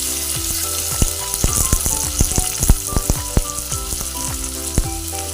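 Chillies and tomatoes frying in a pan give a loud, close sizzle, with frequent crackling pops and a few stirring scrapes.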